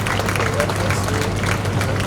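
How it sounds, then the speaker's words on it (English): Loud, close applause fills a school graduation ceremony for a grade 3 class, dense clapping mixed with crowd murmur and a low hum throughout. "A big round of applause for all the student body."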